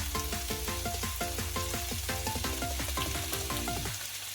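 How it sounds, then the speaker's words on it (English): Cod pieces, spices and rice fry together in a hot pan while being mixed, making a continuous close sizzle with repeated stirring strokes; a strong tonal layer runs underneath. "just give everything a nice mix"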